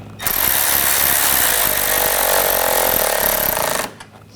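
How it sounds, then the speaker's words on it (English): An impact tool runs in one loud, continuous buzzing burst of about three and a half seconds, tightening the nuts on the engine splash shield of a Nissan Rogue (2014–2020), then cuts off abruptly. "Put the nuts on, and I'll tighten those down."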